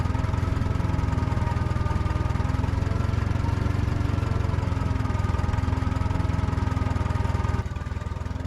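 A tractor pulling a Christmas tree planter across a field, its engine droning steadily and loudly up close with a constant rumbling hum. No voices.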